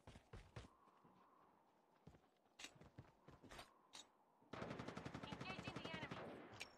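Gunfire from the mobile video game Call of Duty Mobile: scattered single shots at first, then a sustained rapid automatic burst; faint overall, with game sounds beneath.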